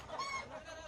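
A burgo chicken gives a brief, faint cluck at a chicken contest in South Sumatra, a single short call against low background noise.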